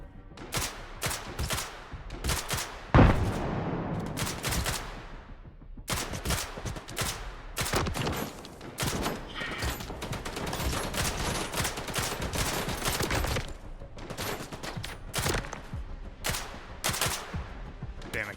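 Shotgun blasts in STALKER 2 in rapid, irregular bursts, loud and close, with a fusillade of overlapping shots and brief gaps between volleys.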